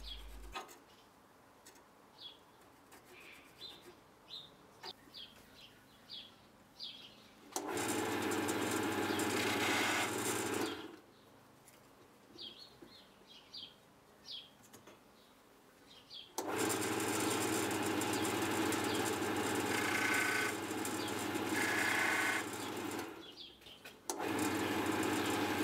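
Cheap wood lathe cutting file handles with a blunt gouge chisel: two long, loud bursts of rough scraping and shaving noise over a low motor hum, separated by quieter stretches of motor running with light tapping.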